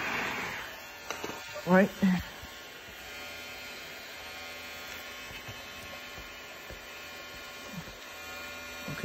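A heat gun warms a black M3 emblem with a steady close whirring hum throughout, and a brief spoken word comes over it near the start.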